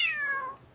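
A cat gives a single short meow with a falling pitch, close and clear, with nothing else in the background.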